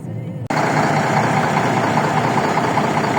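A John Deere T660 combine harvester idles during a sunflower harvest, its engine settling into a loud, steady, close drone after a brief quieter moment at the start.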